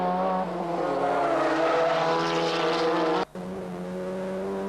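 1988 production-car racing, with two BMWs screaming past close by, a loud high-revving engine drone that holds steady, dips sharply in a brief gear-shift gap and then carries on, with no commentary audible.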